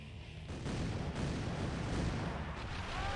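Mortar volleys firing in the PC strategy game Kingdom Under Fire: The Crusaders: a dense, continuous barrage of booming blasts that rolls on loudly for the whole stretch, with no talking.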